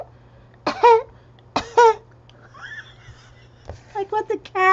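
A woman coughs in two sharp, rough bursts close by, followed by a quieter throat-clearing noise and a run of short raspy coughs near the end, set over a faint steady hum.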